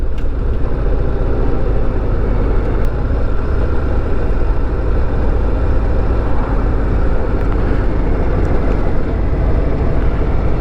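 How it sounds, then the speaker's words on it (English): Steady, loud engine rumble and wind roar from a Harley-Davidson Heritage Classic motorcycle while riding, a continuous unbroken drone with no pauses or speech. "It's great fun riding a Harley Davidson, whatever bike you're on."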